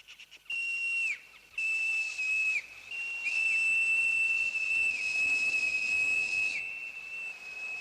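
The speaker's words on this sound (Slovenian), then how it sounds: "Zažvižgal bom, če nista daleč, bosta slišala." A character in a children's cartoon whistles to call for two missing companions, a series of long, loud, steady high whistles with short breaks between them, alone without talk.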